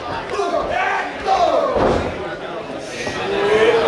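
Kick to the chest in an independent professional wrestling match, a dull thud landing amid a noisy, cheering crowd, with a commentator talking over the arena din.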